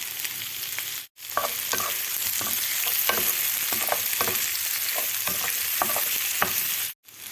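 Onions fry and sizzle in a pan, with a steady hiss broken by repeated scraping strokes of a spoon stirring them, close and loud with no voices.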